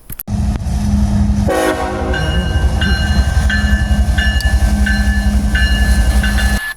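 A loud train rumbles close by in Ashland, Virginia while a horn blasts in repeated long honks, steady wheel noise running underneath throughout.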